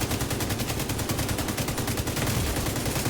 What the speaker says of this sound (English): I think he's trying to use a shotgun